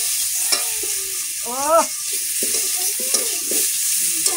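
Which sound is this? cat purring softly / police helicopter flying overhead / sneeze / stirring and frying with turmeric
stirring and frying with turmeric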